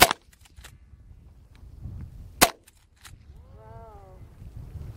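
A Henry Big Boy .45 Long Colt lever-action rifle fires two sharp outdoor shots a few seconds apart, each cracking loud and brief over a quiet background, the first at the very start and the second near the middle.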